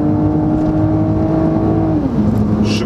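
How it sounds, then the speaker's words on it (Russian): BMW 330e with automatic transmission accelerating hard: steady loud engine drone climbs in pitch, then drops clearly as the gearbox shifts up near the end, with the engine note continuing afterward. "Вы посмотрите, как работает автомат."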